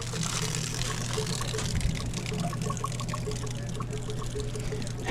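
Water pours and trickles steadily as a Truma hot water tank in an RV drains out of an opened valve, with a constant low hum underneath and a faint bubbly splashing throughout.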